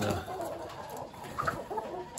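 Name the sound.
chickens clucking in the flock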